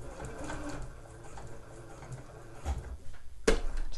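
Sewing machine stitching tapes onto a cable knit poncho, a steady mechanical whir running for about three seconds, then slowing with a couple of louder knocks near the end. No one speaks.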